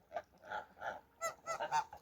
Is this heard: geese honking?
yes